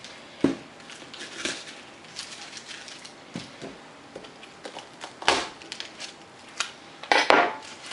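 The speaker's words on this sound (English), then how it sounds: "we're going to finally press some garlic." A garlic press works cloves in a home kitchen, giving scattered metallic clicks and clanks of the press and utensils with a few sharper squeezes near the end, fairly close and with no talking.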